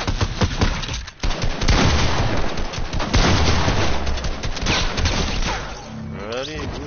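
Bursts of gunfire crackle in rapid, uneven volleys, loud and dense for most of the clip, then thin out near the end as a voice briefly speaks.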